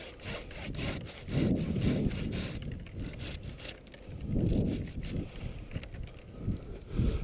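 A hand saw cuts through a branch while an apple tree is pruned outdoors, with steady back-and-forth rasping strokes in rhythmic surges, close and fairly loud, and some wind noise.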